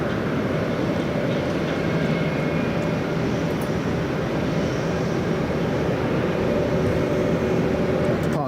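A Wamos Air jet on the runway at Manchester Airport, a loud, steady engine roar holding constant throughout without talk.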